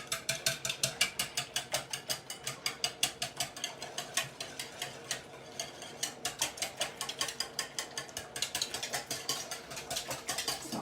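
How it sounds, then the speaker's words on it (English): Maple syrup and cinnamon are whisked together in a bowl, giving a fast, steady run of rhythmic clicking strokes that continue without pause and without talk. "And we're going to whisk this together."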